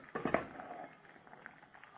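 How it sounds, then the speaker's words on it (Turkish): Thick cherry jam bubbles quietly in a pot, soft pops and gloops over a low simmering hiss, with a brief clatter near the start. "Evet tam 25 dakikadır kaynıyor."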